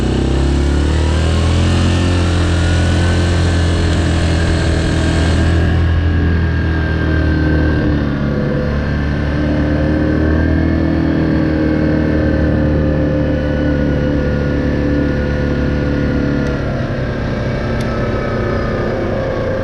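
A Yamaha Grizzly 700 SE ATV rides a trail along the Madawaska River, its engine a loud, steady drone close up that holds for the whole stretch with only slight shifts in pitch.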